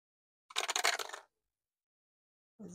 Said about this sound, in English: So let's roll six-sided dice.